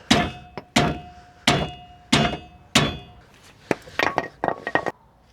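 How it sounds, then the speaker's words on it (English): A hammer strikes a bushing on a supercharged MINI, first with five loud, evenly spaced metallic blows, then a quicker flurry of lighter clinking taps, close up and with no talk. "I need a hammer"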